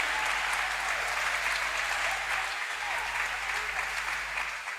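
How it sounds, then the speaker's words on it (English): A church congregation claps in praise, a steady wash of close, dense applause that carries on for several seconds before easing slightly. "I didn't see somebody clapping to give the Lord a praise here today."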